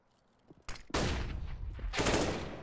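Gunfire in a competitive match between EPG and DreamEaters in the Bets.net Challenger Series: a couple of sharp single shots, then dense bursts of automatic rifle fire rattling loudly and continuously at close range, with no voices over it.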